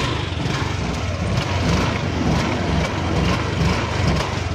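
A motorcycle engine, just repaired after a suspected control-box fault, runs steadily at close range with a dense, even rumble that holds throughout and no talking.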